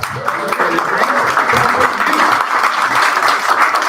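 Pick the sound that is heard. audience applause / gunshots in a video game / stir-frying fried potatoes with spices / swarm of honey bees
audience applause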